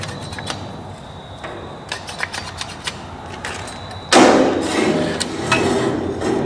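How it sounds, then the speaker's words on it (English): Scattered knocks and clanks of handling metal, then a bandsaw starts up and runs with a steady loud whir and rasp through the end, cutting metal for a trailer ramp light bar. "cut this line right here with the bandsaw"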